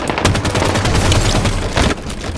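Loud, rapid automatic gunfire rattles in a Halo 5 Arena Slayer match on the map Eden, with bursts of shots clattering up close and a brief pause near the end.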